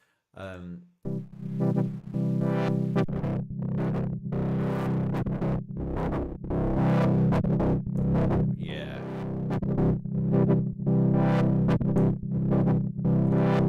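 Sound processed through a Waves Berserk distortion plugin, dense and heavily saturated with pulsing harmonic layers, loud and continuous, with a brief spoken word at the start.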